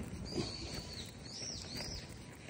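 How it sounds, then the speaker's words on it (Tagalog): Faint, thin bird chirps and whistled calls drift over a steady outdoor hum in Osaka Ryokuchi Park, where crows are also among the birds. "Paririnig mo talaga yung huni ng mga ibon"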